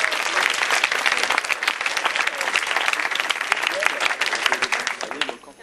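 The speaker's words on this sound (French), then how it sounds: "j'aimerais que vous applaudissiez les candidats de l'ESCP pour les soutenir ce soir." A crowd at an ESCP student event applauds the candidates, with loud, dense clapping and some cheering voices that carry on steadily before tapering off at the very end.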